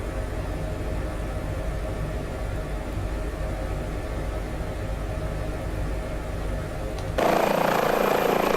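Airbus H145 air ambulance helicopter cruising over Loch Tay in Microsoft Flight Simulator, a steady droning rotor and turbine rumble that jumps abruptly to a louder, brighter whooshing roar near the end.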